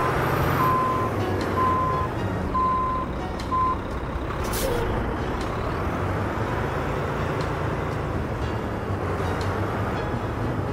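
A heavy truck in American Truck Simulator backs up with a run of evenly spaced reversing beeps over a steady engine drone, joined by a sharp hiss of air brakes partway through, loud and continuous throughout.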